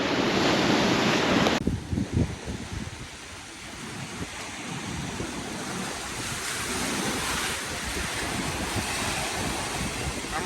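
Sea waves at Anjuna beach in Goa, where high seas have eaten away the shore, roar in a continuous broadband wash of surf. Heavy wind buffets the microphone throughout, and there is no speech.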